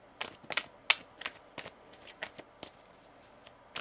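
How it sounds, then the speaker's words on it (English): Tarot cards are shuffled quietly at close range, a series of soft riffling flicks and taps in irregular rhythm. "One more shuffle."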